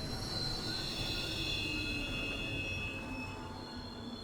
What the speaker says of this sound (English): Train's just gonna stop.